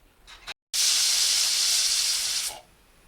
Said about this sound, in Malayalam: കുക്കറൊന്ന് മൂടിയതിന് ശേഷം 2 വിസിൽ വരെ നമുക്കത് വേവിച്ചെടുക്കാം.